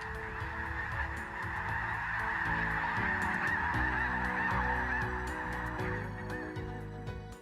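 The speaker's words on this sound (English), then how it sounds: "The southern migratory flight by thousands of geese" Thousands of geese honk in a dense, continuous chorus throughout, a steady wall of overlapping calls on their southern migratory flight over the Manitoba countryside.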